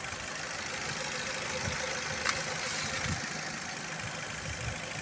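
A 2022 Maruti Ertiga Smart Hybrid VXi petrol car with 65,000 km on it idles steadily, a low even engine hum with a faint metallic rattle and no voices.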